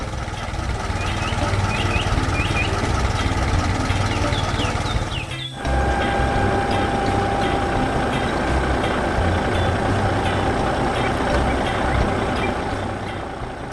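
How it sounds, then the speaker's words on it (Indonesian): A purple cartoon tractor working hard in a farm field gives off a steady, loud engine rumble with rhythmic beeping tones on top and a brief dropout midway. "Traktor ungu bekerja keras di ladang"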